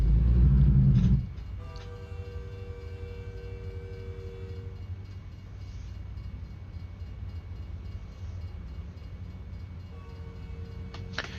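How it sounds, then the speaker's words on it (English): A train in American Truck Simulator rumbles past steadily from a loud start, with sustained horn tones sounding a couple of times over the continuous rolling noise. "Oh boy, we're gonna get a train."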